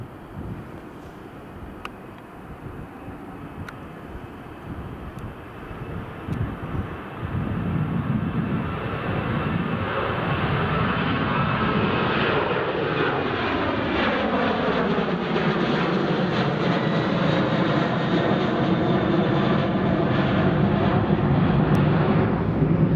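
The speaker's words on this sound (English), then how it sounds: "Here comes the Ryanair." A Ryanair airliner passes at Edinburgh Airport, its jet engine roar swelling from a distant rumble into a loud, sustained whoosh with a sweeping, shifting tone as it goes by outdoors.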